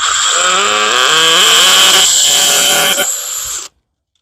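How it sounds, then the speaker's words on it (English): A hammer drill bores through a window frame with a loud, close, continuous whine whose pitch sweeps up and down under load for several seconds, then cuts off abruptly. "we will drill through the actual window frame"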